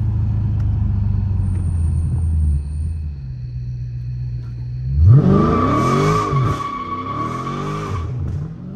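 A Scat Pack car rumbles at idle on a late-night city street, then breaks into a loud burnout with rising engine revs and sustained tire squeal and skidding for several seconds before easing off.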